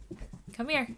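A pet dog whimpers indoors, a short rising high-pitched whine right after a woman calls it, her voice heard around it.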